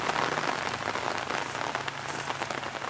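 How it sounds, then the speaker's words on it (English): Rain patters steadily onto an umbrella on a disc golf course, a dense, close hiss of many drops with no voices. "we got a little bit of rain action"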